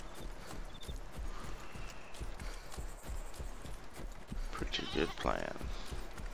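A goat clip-clops along in the video game DayZ, its rhythmic hoofbeats steady and close under frequent talking from a man.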